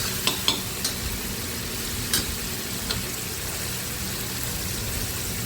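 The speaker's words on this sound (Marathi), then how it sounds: "आता हे सगळं व्यवस्थित हलवून घ्यायचं आहे" Tomatoes with salt being stirred in a cooking pan, a steady low sizzle with a few soft scrapes and taps of the utensil, fairly faint and continuous.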